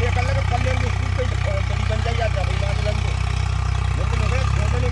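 An old tractor engine runs steadily while levelling flooded fields on the Uttar Pradesh–Haryana border, a close, loud, even diesel drone with a throbbing low rumble, voices faintly audible over it.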